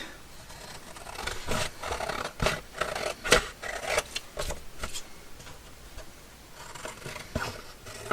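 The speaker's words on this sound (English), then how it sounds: "let's get the giant scissors out and cut this" Several crisp snipping and scratching sounds from large scissors cutting paper, close up, irregular bursts with short pauses between cuts.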